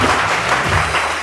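Studio audience applause on a Pakistani morning TV show, steady dense clapping throughout the short stretch with a faint voice underneath.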